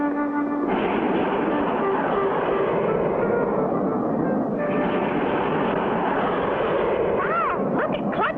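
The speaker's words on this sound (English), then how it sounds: "Did you ever see such a fast jet plane, Mr. Hiram?" A jet plane flying in an air race in a vintage cartoon gives a loud, steady roar that holds throughout. Near the end it gains a wavering, swooping tone, and no voices are heard.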